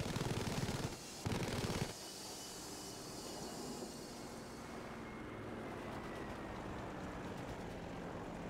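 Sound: airplane flying in the video game Battlefield V

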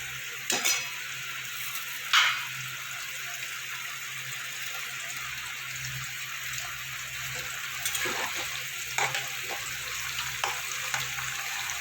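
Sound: chopped tomatoes frying with onions in a pan

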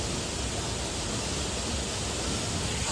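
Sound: Dhangar waterfall rushing water

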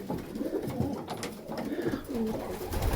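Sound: white homing pigeons in a new pigeon loft

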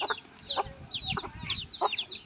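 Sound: rooster clucking

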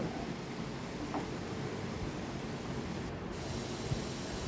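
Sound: stirring taro stir-fry with pepper in a pan

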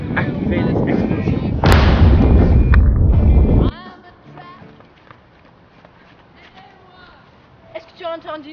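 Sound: explosions

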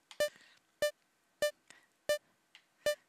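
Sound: sad beep boop sounds in the video game VVVVVV

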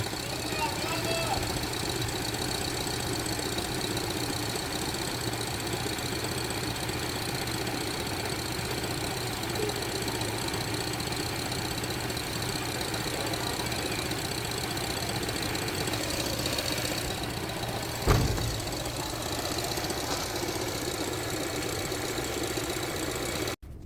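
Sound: Chery Omoda 5 2023 engine making tapping knocking noise

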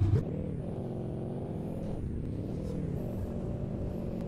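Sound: Nissan Titan Warrior truck climbing an off-road slope

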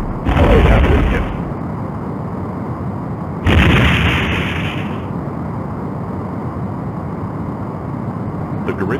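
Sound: Garidian ship exploding in Star Trek: A Final Unity video game

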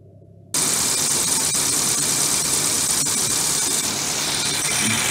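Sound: car engine idling

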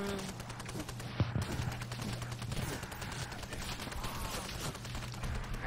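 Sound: gunfire from blind firing in a Nazi zombie video game

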